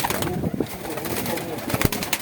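Turkmen pigeons coo softly nearby at a breeder's, with low throaty calls and some wing flutters over a busy, noisy background.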